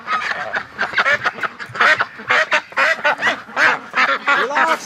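A duck inside a wire pen quacks over and over in quick, loud, honking bursts that come from close by and overlap one another throughout, with no talking.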